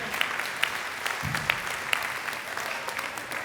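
Steady applause from an audience at a reggae awards ceremony, moderately distant and even, with scattered sharper claps.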